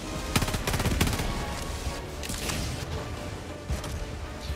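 Rapid automatic gunfire in Helldivers 2 rattles in dense bursts, loudest in the first second and a half, then continues in quieter scattered volleys.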